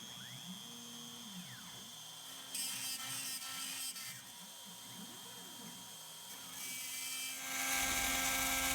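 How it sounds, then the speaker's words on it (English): A CNC router spindle carving with VCarve Desktop, a whining motor with tones sliding up and down as the tool moves, joined by bursts of harsher cutting noise that grow louder toward the end. "So I'm going to turn the spindle on and hit carve."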